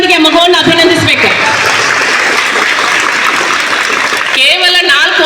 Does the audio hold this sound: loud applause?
yes